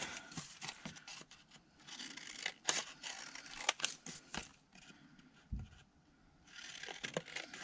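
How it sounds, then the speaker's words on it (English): Scissors cutting out a paper journal card, a close, quiet run of snipping and paper rustling with brief pauses and a soft thump, heard alone. "Then, cut this out."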